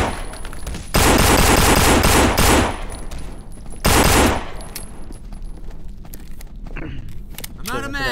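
Loud bursts of rapid automatic gunfire come from the zombie survival game No More Room in Hell, with two heavy volleys separated by quieter shuffling.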